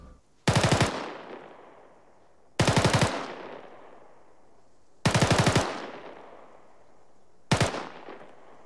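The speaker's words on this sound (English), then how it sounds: "cyclic rate of fire with the M4 is going to sound something like this" Four short bursts of rapid automatic fire from an M4 rifle, evenly spaced a couple of seconds apart, each cracking loudly then ringing out into a decaying echo.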